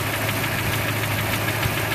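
Rod knock from inside a hydrolocked car engine, a faint, fast, regular knocking buried in steady running engine noise, heard close and without talk.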